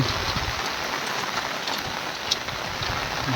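Steady light rain patters on a surface, a soft continuous hiss with faint scattered drops and no voices.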